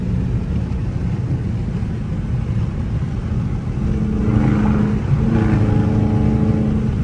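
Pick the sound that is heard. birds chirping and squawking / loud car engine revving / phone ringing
loud car engine revving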